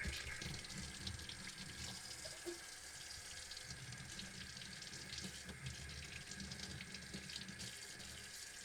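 Filtered tap water runs steadily over a houseplant being rinsed of soap, a continuous, fairly faint flow with a constant hiss and no talking.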